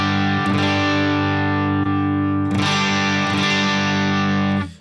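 Distorted electric guitar through a Headrush Gigboard with the cabinet mic placed off axis, thick sustained chords restruck a few times, loud and saturated, cutting off abruptly at the end.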